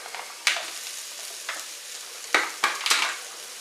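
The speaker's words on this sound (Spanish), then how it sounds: "entonces vamos a echar el bacon" Bacon sizzles in a pan with softened onions, soft frying crackle under several sharp scraping stirs of the utensil spaced through the moment.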